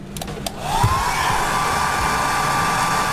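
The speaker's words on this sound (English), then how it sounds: "Let's get the hairdryer back on." A hair dryer powered by a VTOMAN FlashSpeed PRO 3600 power station switches on after a couple of brief clicks and runs steadily with a constant whining whoosh, close and loud.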